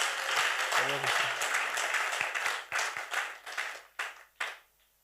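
A church congregation applauds in a broad, steady wash of clapping with voices mixed in, then thins to a few scattered, sharp claps before falling quiet.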